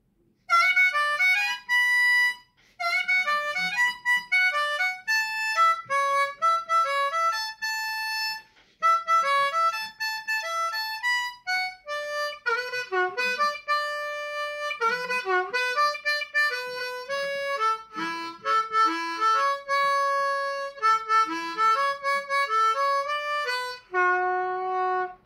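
A solo harmonica plays the melodic intro of a cumbia song, with bright, clear phrases and quick note runs separated by short pauses, played close and alone with no voices.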